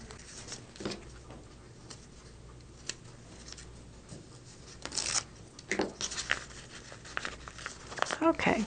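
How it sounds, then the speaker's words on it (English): Fabric of a quilt block tearing as a seam is ripped out, faint scratchy rips and crinkles building in short bursts toward the end, with quiet talk in the background. "I love it when it starts coming out and you can hear that ripping sound."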